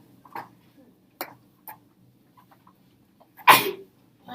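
One loud, abrupt sneeze bursts out near the end, preceded by a few soft clicks and faint murmuring.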